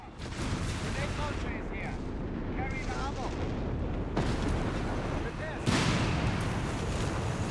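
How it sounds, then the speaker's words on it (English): German artillery shells pound a position in Company of Heroes 3, a dense, continuous roar of battlefield fire and explosions with a heavier blast near the end, under game voice chatter. "machine crew utterly smashed in by German artillery"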